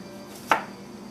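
A single knife cut through an English cucumber on a cutting board while thin slices are made for gravlax on pumpernickel, heard as one crisp, close chop in an otherwise quiet kitchen.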